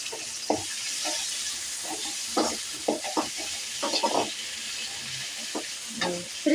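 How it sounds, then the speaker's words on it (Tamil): Onions and tomatoes sizzle steadily in a hot pan while a utensil stirs and scrapes in irregular clacks, close up, with no voices. "தக்காளி நல்லா குழைவா வேகட்டும் நல்லா வதக்கி விட்டுப்போம்"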